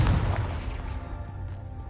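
A Confringo fire blast spell erupts in the Hogwarts Legacy video game, a booming burst at the start with heavy low rumble that trails off into a steady rolling roar for the rest of the moment.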